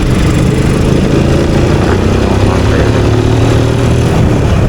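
A motorcycle engine runs on a public road with a loud, steady, close droning hum that holds throughout, with no clear revs standing out and no talking.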